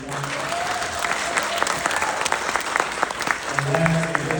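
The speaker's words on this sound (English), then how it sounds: "please give them a round of applause" A crowd at a school academy ceremony claps steadily and warmly, dense applause filling the space with a few voices faintly audible beneath it.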